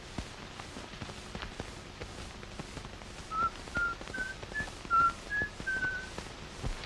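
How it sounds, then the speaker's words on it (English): A clear, thin whistled tune of Yankee Doodle, a string of short pitched notes in a lilting melody, moderately near over a quiet background with faint steps. "somebody's whistling Yankee Doodle"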